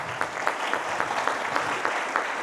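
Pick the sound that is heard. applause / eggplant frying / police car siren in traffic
applause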